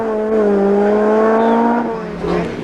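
A rally car at the 2002 Jim Clark Rally screams past at high revs, its engine note steady and loud, then dropping in pitch as it passes and fades, with a brief burst of revving at the end.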